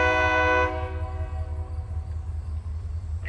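A rock freight train rolls along a rail line toward Plum Run. Its horn blares loud and steady for under a second, then a constant low rumble of passing cars carries on to the end.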